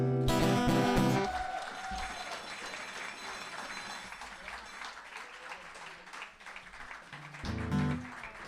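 An audience at a live creative evening applauds after a song ends. The final music gives way to steady, moderately loud clapping that thins out, with a last swell of clapping near the end.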